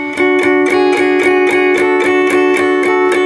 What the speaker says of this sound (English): I dropped in the 9B, and then go to the 10B and strum those 3 strings